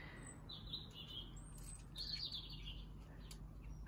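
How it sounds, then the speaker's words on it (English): Birds chirp in a garden in winter, with short high tweets and calls scattered over a steady low background hum, fairly faint and distant, with no talking. "Oh, listen to those birds. Such a beautiful sound."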